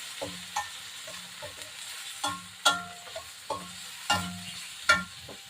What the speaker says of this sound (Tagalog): Gisa-gisa muna tayo dyan.